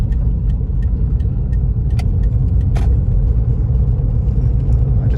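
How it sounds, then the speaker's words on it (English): Inside a 2004 Toyota Prius on the road, a steady low engine and road rumble runs continuously, with faint ticking and a brief click over the droning cabin noise. "Okay, I just heard the engine turn on."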